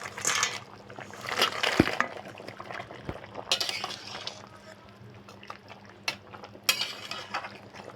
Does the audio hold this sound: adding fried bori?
yes